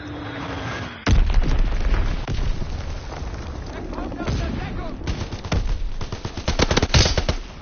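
Rapid machine-gun bursts and sharp single shots crackle in a Call of Duty WW2 game, a dense run of loud reports with booming impacts, a voice briefly speaking among them.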